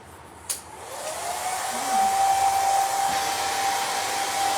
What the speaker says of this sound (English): let me just touch it with the blow dryer so that I don't smudge it.